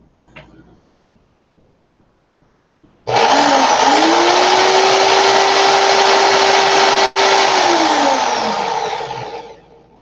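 An electric drill twisting coil wire whirs up after a brief knock, running at a steady high whine for several seconds, cutting out for an instant, then winding down.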